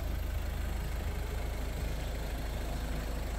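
A Ford Focus Titanium X with a 1.6 TDCi diesel engine idling steadily, a continuous low rumbling hum with no voices.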